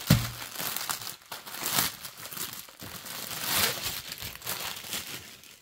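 Cross-stitch fabric being unwrapped from its plastic packaging, with steady crinkling and crumpling that swells and fades in bursts, close and fairly loud, no talking.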